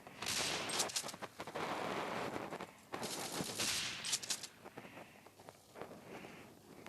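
Shotgun gunfire in a CS:GO-like first-person shooter video game, heard as rapid bursts of shots and crackling firefights with scattered footsteps, fairly faint.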